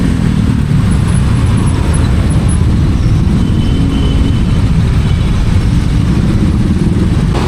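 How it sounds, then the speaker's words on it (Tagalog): Steady roadside traffic on a weekday morning near a Metrogas fuel station in Barangay Marikina: a continuous broadband rumble of cars and motorcycles passing close by, with no clear gaps and no talk. "matraffic talaga dito sa umaga"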